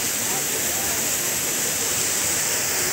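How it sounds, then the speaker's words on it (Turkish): Sutüven Waterfall at the foot of the Kaz Mountains rushes in a loud, unbroken roar of falling water, steady and close throughout. "Şelalenin yukarıdan akışını da sizlere göstermiş olayım."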